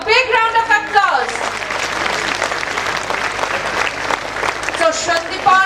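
Applause from an audience at a school Founders Day celebration honouring a young pre-nursery record holder, a loud sustained round of clapping and crowd noise, with a voice speaking over it at the start and again near the end.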